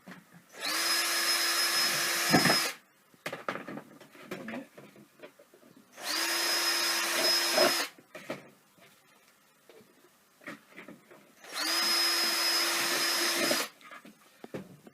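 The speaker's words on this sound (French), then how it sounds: "Maintenant on va percer les sous-pots." A power drill bores holes in plant pot saucers in three separate loud bursts of steady whining, each lasting about two seconds, with quiet handling noises between them.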